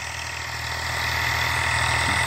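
An Eicher 485 HD tractor engine runs steadily at close range, a loud continuous low rumble with a rough knocking idle that holds level throughout, with no voices over it.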